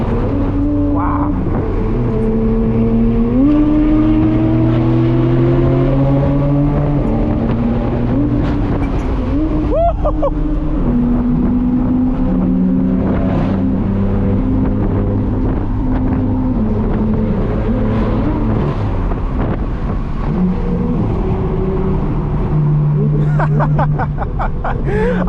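A straight-piped BMW M4 F82 roars loudly on the drive to a cars and coffee meet, its exhaust note rising and falling through repeated gear changes with steady wind noise underneath.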